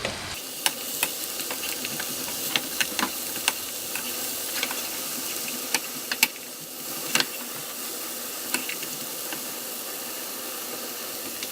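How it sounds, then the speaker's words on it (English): Vegetables for a skillet ratatouille sizzle steadily in a hot pan, with a continuous frying hiss punctuated by frequent sharp clicks and scrapes of a utensil stirring them, close and fairly loud throughout. "you stir it around so the vegetables on the pot get sauteed well"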